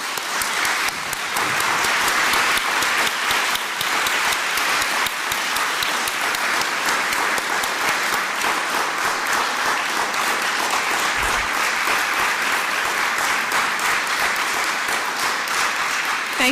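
Sustained audience applause fills a lecture hall at a philosophy talk, a dense, steady wash of many hands clapping at even loudness throughout with no voices over it.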